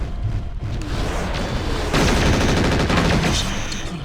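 Missiles fire in rapid succession from a mech in MechWarrior 4 Vengeance, a loud, continuous barrage of booming launches and blasts that carries on for the whole stretch.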